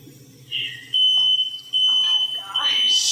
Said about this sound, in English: that's what happens when you cook in the restaurant with the smoke detector